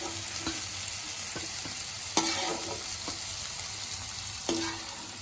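Cauliflower fries in oil, giving a constant hiss of bubbling with a few sharp clinks and scrapes from a utensil, close up and with no talk.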